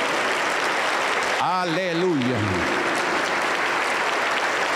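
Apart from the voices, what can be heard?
applause in a church service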